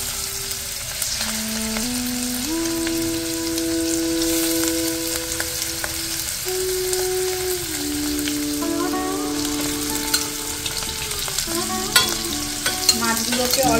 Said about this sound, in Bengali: এবার মাছগুলোকে আমি ভেজে নেব।